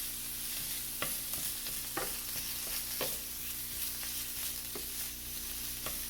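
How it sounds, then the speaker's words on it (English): Pork sizzling steadily in a pan while a spoon chops it up, a constant hiss of frying with sharp periodic taps of the spoon striking the pan, close and alone without talk. "you can hear that sizzling away"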